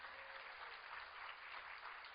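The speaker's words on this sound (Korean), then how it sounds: "하나님께 영광의 박수입니다." A church congregation claps together in praise to God during a service, a steady continuous wash of applause, somewhat muffled and distant, with no voices over it.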